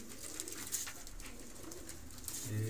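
Teddy breeder pigeons cooing softly in a loft, a low, steady murmuring coo with faint rustling, no talking.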